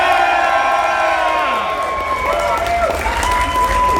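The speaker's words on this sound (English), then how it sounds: "you need to cheer louder now" A fan expo crowd at a speaker panel cheers, whoops and applauds loudly throughout, a dense wash of clapping and shouting voices.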